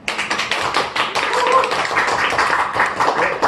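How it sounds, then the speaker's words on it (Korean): Applause welcoming a guest onto a talk show, a short burst of close, brisk clapping from a small group that holds steady for a few seconds. "저 박수로 맞이."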